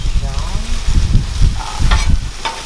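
Pre-cooked shrimp for cilantro lime shrimp tacos fry loudly in a pan as they heat and get seasoned, a dense continuous sizzle broken by stirring and scraping close by.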